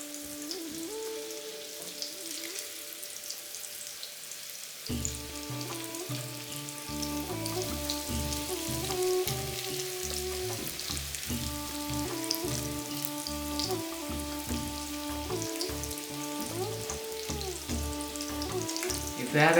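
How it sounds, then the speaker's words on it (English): Steady crackling sizzle of potato cutlets (aloo tikki) frying in hot oil over medium heat; from about five seconds in, tuneful background music plays loudly over it. "So it has been frying for the last 5 minutes on medium heat."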